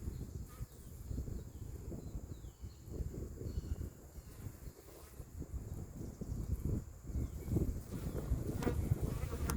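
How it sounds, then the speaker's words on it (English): Honeybees returning to the hive loaded with pollen in strong wind, a continuous hum with individual bees passing close, plus wind rumbling against the microphone. "My busy bees are coming back home loaded with the pollen"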